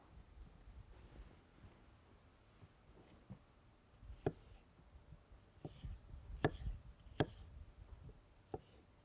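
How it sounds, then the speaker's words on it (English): A knife slicing a fresh peach: several sharp, separate taps of the blade against the board spaced a second or so apart, faint and close, over a quiet background. "I'm just going to slice this peach up a little bit, just so our pieces aren't too big"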